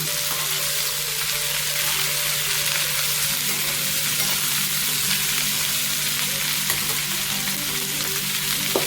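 Steady close sizzle of food frying in a cast iron pan for a spicy chili chutney, a continuous loud hiss with faint occasional clicks, no voices.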